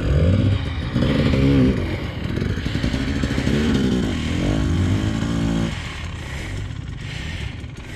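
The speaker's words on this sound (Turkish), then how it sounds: "Halen motor sesleri durmadı ama." Enduro motorcycle engines working on rough terrain in Sakarya, a loud, continuous buzzing drone with shifting revs that eases slightly toward the end, no voices over it.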